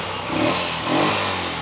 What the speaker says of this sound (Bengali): দেখেন ভাই দেখাই দেন না ইঞ্জিনের সাউন্ডটা